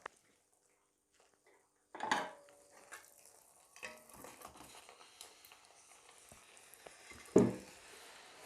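Chicken being mixed with garam masala in a pan while frying: a few scraping clatters of a spoon against the pan, spaced seconds apart, with a faint sizzle between them and no talk.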